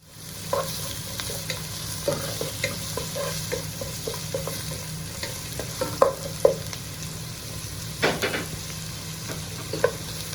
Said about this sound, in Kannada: ಬೆಳ್ಳುಳ್ಳಿ ಶುಂಠಿ ಮತ್ತು ಗ್ರೀನ್ ಚಿಲ್ಲಿ ಎಲ್ಲ ಹಾಕ್ತಾ ಇದ್ದೇನೆ